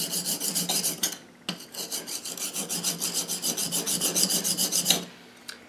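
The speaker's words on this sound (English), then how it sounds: "I'm going to put the cap iron down on my coarse stone." A steel cap iron from a hand plane is rubbed back and forth on a coarse sharpening stone, making close, loud rhythmic rasping strokes in an even cadence, with two brief pauses.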